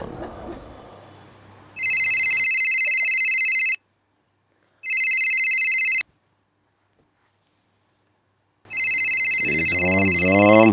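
A telephone rings loudly at night in repeated bursts separated by silent gaps, with a person's voice rising at the end.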